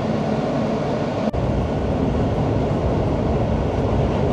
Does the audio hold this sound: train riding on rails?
yes